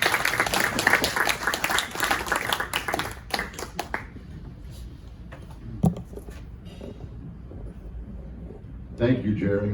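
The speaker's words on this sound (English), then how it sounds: "How about a nice round of applause for Congressman Randy Whitmer?" Audience applause for a congressman at a Galveston Island property owners association meeting: a burst of clapping that fades after about four seconds into a quiet room with a few stray claps, then a voice begins speaking near the end.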